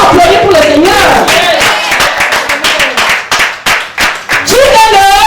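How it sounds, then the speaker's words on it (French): A church congregation breaks into applause and rhythmic clapping while a woman pastor keeps preaching loudly over it, the clapping rising in strong claps toward the end under her voice. "Est-ce qu'on peut applaudir pour le Seigneur?"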